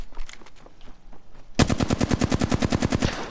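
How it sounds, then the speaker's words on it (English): Rapid automatic gunfire in a video game, a steady burst of about fifteen evenly spaced shots that starts abruptly after quieter muffled sounds, close and loud. "Missed all my shots, don't worry about it."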